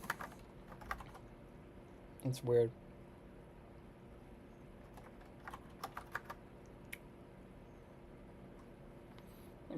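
A person speaks briefly, then a few sparse, faint keystrokes on an ordinary computer keyboard tap out in a short cluster against a quiet room hum.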